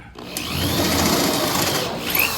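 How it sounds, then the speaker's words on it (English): A drill cuts through stacked layers of sheet metal in a car panel repair, a near, sustained whirring with pitch sweeps as the bit pushes through the top sheet into those underneath. "Now I'm drilling completely through the top layer and then just hitting the under layers here"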